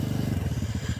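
A scooter motorbike rides past near a tea garden, its engine throbbing in a fast, steady low pulse for about a second before cutting off abruptly.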